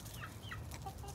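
A Buff Orpington and Welsummer mix chicken gives a few soft, short clucks close by, quiet and without talk.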